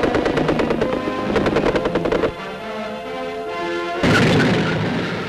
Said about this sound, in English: a German machine gun post is still in action